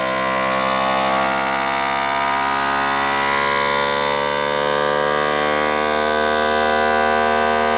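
A vacuum pump sealing a jar of cookies gives a continuous high-pitched mechanical whine that holds steady and loud for several seconds with no speech.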